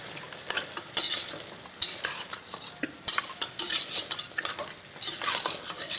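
Mutton curry with garam masala stirred in a pan, a loud close sequence of metal spoon scrapes and clanks over a continuous sizzle.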